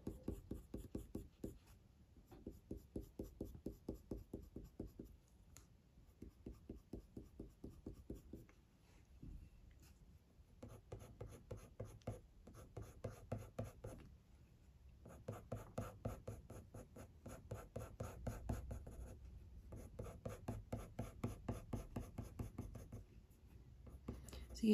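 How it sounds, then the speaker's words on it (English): A coloured pencil pressed hard onto textured drawing paper, rhythmic close scratchy strokes in steady bursts with brief pauses, faint and intimate. "Applying quite a hard pressure now, kind of squashing down the tooth of the paper and really darkening that area"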